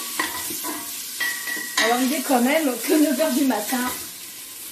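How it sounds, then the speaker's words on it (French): Fatty bacon sizzles steadily in a cooking pot, a soft frying hiss that runs beneath a person talking in French close by. "mon lard gras est dans ma cocotte"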